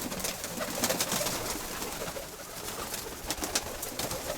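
Pigeons coo softly amid a dense, noisy background of fluttering and rustling, the murmuring calls overlapping continuously.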